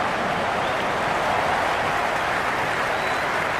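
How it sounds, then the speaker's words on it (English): Huge cricket crowd at an India vs Pakistan T20 World Cup match, a steady, loud roar of cheering and applause that holds unbroken throughout. "It's evident and ever so audible that the crowd is at near bursting point at today's play."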